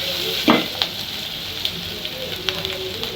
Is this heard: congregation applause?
no